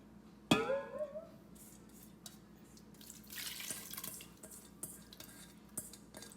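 Water splashes into a pot of rice for khichdi, a sharp pour at the start followed by softer trickling, dripping and faint clinks of the pot, close and fairly quiet with no talking.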